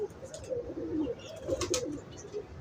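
Pigeon cooing from a rooftop loft in Lahore, soft repeated low coos in a steady murmur across the clip, fairly close, with faint bird chirps above and no talk.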